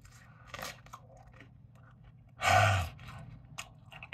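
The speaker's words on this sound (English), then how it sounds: "I mean, the crust is unbelievable. Listen to the crunches." A loud crunching bite into pizza crust, one strong chewing crunch in the middle with fainter mouth sounds and small crunches before and after, close to the mic with no talking.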